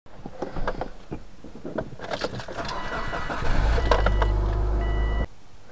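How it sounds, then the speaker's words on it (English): A car engine cranks and starts after a home tune-up with new ignition coils and plugs: keys jingle and clicks sound first, then the starter turns over and the engine settles into a loud steady idle that cuts off. "All I got to do now is crank up that engine."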